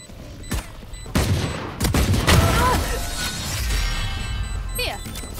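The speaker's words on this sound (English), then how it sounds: "Placing swarm grenade. Swarm grenade out." In a Valorant match, a swarm grenade goes off as a burst of sharp cracks and pops, followed by a sustained crackling, whirring rush. The bursts are close and fairly loud, and a voice is heard briefly.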